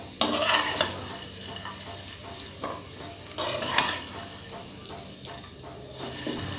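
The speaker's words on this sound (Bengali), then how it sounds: "আমি এখানে 2টা চামচ ব্যবহার করে সেমাইগুলোকে উল্টে পাল্টে ভেজে নিচ্ছি।" Vermicelli fried with whole spices is tossed and turned with two spoons in a pan, a close steady sizzle broken by repeated scraping and clinking of the spoons against the metal.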